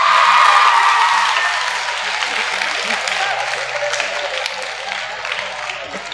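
An audience at a Haryanvi poetry recital bursts into loud, dense applause that slowly fades, while a voice talks faintly underneath.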